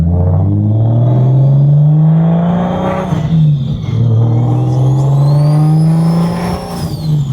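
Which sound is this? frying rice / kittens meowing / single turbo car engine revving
single turbo car engine revving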